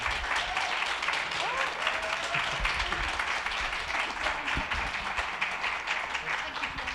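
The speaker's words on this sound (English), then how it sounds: "Would you please, big round of applause for our panellists." Audience at a panel discussion on inclusivity in vegan spaces gives the panellists a round of applause, dense continuous clapping from many people, fairly close and steady, with faint voices underneath.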